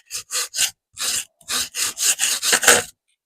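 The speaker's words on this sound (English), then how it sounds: "The white foam is really loud" White foam being cut by hand while making a dragon sculpture, heard as about ten loud, close rasping sawing strokes in a steady rhythm with no talk.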